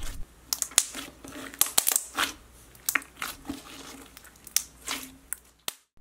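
Thick, stretchy slime squished and pressed by hand, a run of close wet squelches, pops and crackles in an irregular rhythm.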